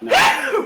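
A single sharp sneeze bursts out close by during a tabletop role-playing game session, rising quickly and fading within a second, with faint voices of players around the table.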